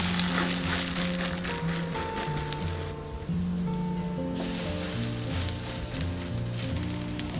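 Soybean-pulp dough pancakes cooking in light oil on an electric griddle, giving a steady close frying sizzle and crackle throughout, with a faint tonal hum underneath.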